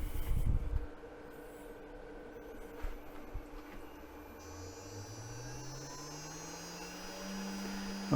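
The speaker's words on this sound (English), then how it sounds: "start the spindle up" Spindle of a CNC 4040 router spinning up after a brief loud thump, a low hum that rises steadily in pitch over several seconds, faint and alone.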